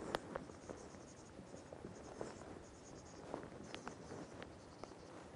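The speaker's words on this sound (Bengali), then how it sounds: "ওটা আমরা একটু বোর্ডে লিখি" Marker or chalk scratches and taps across a classroom board, a faint, close run of short strokes with small clicks, quiet and uneven, with no voices.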